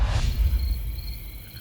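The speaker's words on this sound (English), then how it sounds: "Y'all hear them crickets?" A faint, steady high chirping of crickets runs beneath a low rumble of room noise, continuous and distant.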